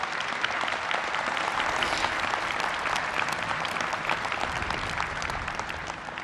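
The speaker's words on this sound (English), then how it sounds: "How about a round of applause for those who were responsible?" Sustained applause from a large audience at the christening ceremony for the aircraft carrier USS George H.W. Bush (CVN-77) in Newport News, Virginia; dense, steady clapping fills the whole stretch at even loudness with no voices over it.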